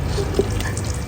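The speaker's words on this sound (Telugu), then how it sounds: "ఇప్పుడు ఇలా ఆయిల్ కూడా పోసుకోవాలి." Oil pours into a batch of mango pickle, a short soft liquid trickle with small splashy gurgles, close and alone.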